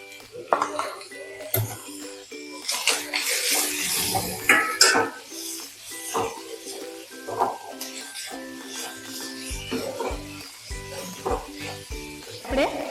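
Moong chilla stuffing sautéing in a pan, a bright sizzle with a spatula scraping and clinking, a voice talking over the cooking throughout.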